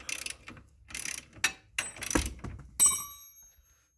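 Ratchet wrench clicking in quick bursts while removing a bolt during ball joint work on a 2012 Polaris Sportsman 850 ATV, close and crisp, ending with a ringing metallic clank.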